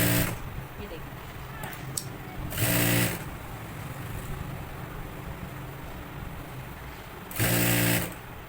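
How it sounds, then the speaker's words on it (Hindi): A sewing machine stitches along a dress neckline in two short, loud whirring bursts a few seconds apart, close by, with someone talking in the quieter stretch between them. "इसकी बिल्कुल बराबर से हम सिलाई लगा देंगे"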